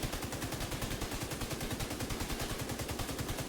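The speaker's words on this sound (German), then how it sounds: "wenn man halt da Minigun drin tut, dann blastet die halt ein wenig schneller" Rapid, continuous minigun fire in the video game The Division 2, a very high rate of shots forming a dense buzzing rattle with no pauses.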